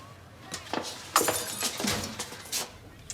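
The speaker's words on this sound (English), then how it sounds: "it sounded like glass" A glass window smashes and shatters, sharp crashing bursts followed by scattered tinkling fragments over about three seconds, fairly close and loud, alone without clear speech.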